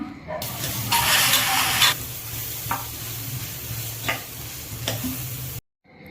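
Cooked rice being stirred and mixed into masala in a hot pan, with a steady scraping sizzle and a few sharper spoon knocks against the pan, close and fairly loud, ending abruptly in silence.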